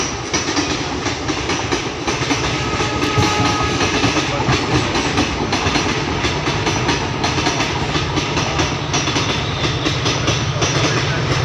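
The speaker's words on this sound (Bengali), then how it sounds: "ওই টানেলের ভিতর দিয়ে এখন ট্রেনটা চলে যাচ্ছে" A train runs through a railway tunnel near Chandranathpur, Silchar, heard as a continuous loud rumble with rhythmic wheel clatter over rails, steady and close for the whole stretch.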